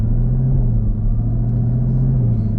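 Exhaust of a 2022 Camaro ZL1 in track mode, a loud, deep, steady rumble heard from inside the car while driving, with a slight dip and recovery in pitch and no voices.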